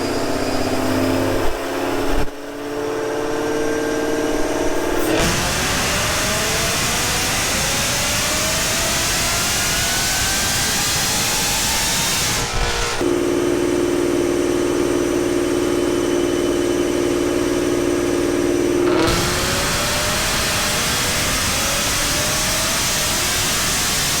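Modified 2014 GT car with a VMP kit and full exhaust, engine revving loudly and steadily up and down through several long pulls, with a brief quieter idle between runs, close by.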